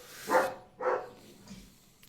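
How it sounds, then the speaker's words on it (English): Two short, close dog barks sound in quick succession, followed by a fainter, low yelp before quiet returns. "The dogs join in."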